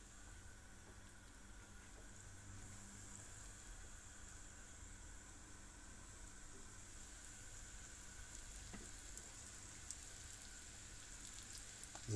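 Parasol mushrooms frying in a pan, a steady soft sizzle and crackle with faint pops, continuous and fairly quiet throughout.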